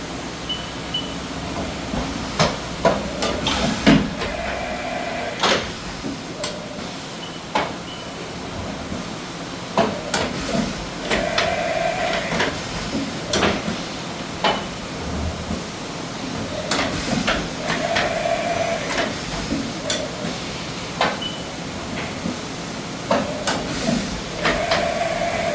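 A Haas VF-7/50 CNC vertical mill from 2010 performs a tool change, a stretch of repeated clunks, sharp clacks and hissing air bursts in an irregular rhythm over a constant machine hum.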